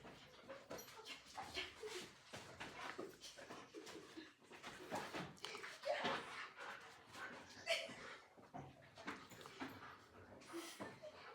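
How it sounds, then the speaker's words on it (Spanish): A mischievous husky dog moving about inside a room, with panting, light whimpers and shuffling at close range, mixed with background speech. "parece que se metió el perro husky, que es muy travieso"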